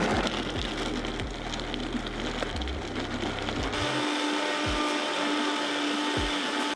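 A blender whirs loudly, blending thick vegan key lime pie filling, with a steady motor roar that shifts pitch partway through as the mixture loosens, with no talking.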